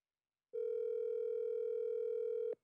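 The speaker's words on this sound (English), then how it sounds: "Oh, you're going to call her right now." A single steady telephone ringing tone, one long continuous buzzing note lasting about two seconds, clear and alone, ending abruptly.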